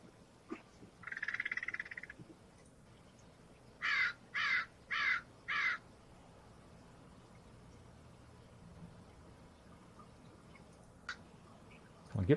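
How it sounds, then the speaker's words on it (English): Crow-like caws from a Final Fantasy X/X-2 HD Remaster game scene: one drawn-out call, then a quick run of four short, evenly spaced caws over faint ambient background, with a few clicks near the end. "Maybe we need a better crowing sound."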